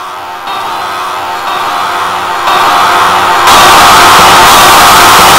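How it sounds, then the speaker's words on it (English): Many layered voices yell together in a dense, loud roar that grows in steps, with each new wave of shouting stacking on the last until the mass of voices is overwhelming. "900 Orientals yelling at you!"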